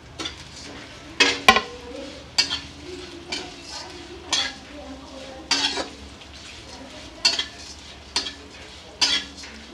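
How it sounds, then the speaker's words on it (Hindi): Vermicelli roasting in two spoons of ghee in a hot kadai, with a spoon or spatula scraping and stirring in short, regular bursts over a soft, steady sizzle, close up and without talk. "तो उसके लिए हम कढ़ाई गरम कर लिए थे, 2 चम्मच घी डाले। अब हम सेवई डाल देते हैं।"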